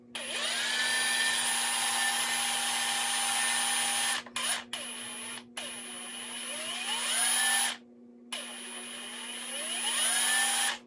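A Metabo HPT 36V cordless impact driver whirs steadily at speed setting 1, motor pitch sweeping up and down as the trigger is eased, with several brief stops.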